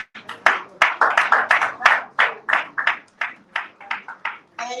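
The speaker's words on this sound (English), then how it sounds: "please let's give him a round of applause again" Applause from an audience at a Surulere LGA mega launch event following a speech, heard as a series of hand claps in loose bursts that are somewhat sparse and uneven.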